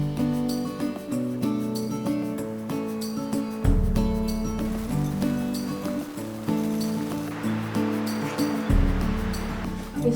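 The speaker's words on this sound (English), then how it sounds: "the sounds of the water are just amazing" River water rushing alongside a mountain trail near Leadville, Colorado, a steady soft broadband wash close by with no talk.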